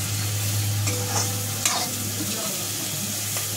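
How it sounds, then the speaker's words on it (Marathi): Ground spices sizzle in oil in a pan for a yellow-masala eggplant curry while a spoon stirs them, a steady close frying hiss with occasional scraping, and no one speaks. "आता हे जे मसाले टाकलेले त्याच्यामध्ये 5 मिनिटं असं फ्राय करून घ्यायचं."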